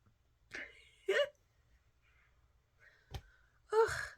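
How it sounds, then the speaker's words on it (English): A person lets out a few short, throaty burps at irregular intervals in a quiet room, each brief and fairly soft, with faint breathing between them. "enough of that burping"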